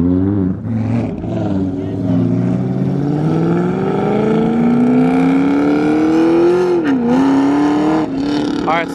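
A Chevrolet Camaro ZL1 accelerates hard, its engine note climbing steadily in a loud continuous rev, dipping briefly near the end before pulling again, heard up close on a road.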